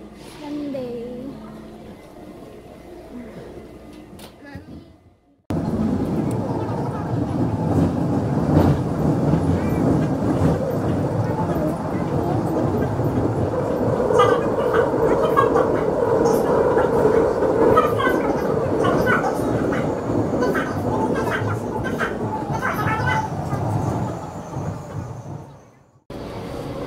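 Interior of a subway train in Korea on a Sunday, with a steady loud rumble and rolling rail noise beginning after a quiet start, brief faint voices early on, and the roar dropping away near the end.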